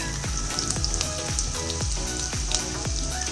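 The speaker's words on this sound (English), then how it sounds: "Now the oil has become hot. Let us put this onion." Three medium-sized onions hit hot oil in a pan, crackling and sizzling loudly with rapid repeated pops and spatters, close and continuous.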